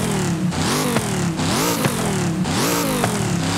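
A modified 1968 Pontiac Firebird in Forza Horizon 5 revs hard, its engine note rising and falling through repeated throttle sweeps, loud and close with no talk.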